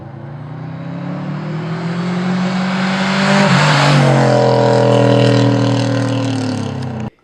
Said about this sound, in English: the most distinctive thing about my car is the exhaust, because it's probably the most obnoxious thing I've ever been within 10 feet of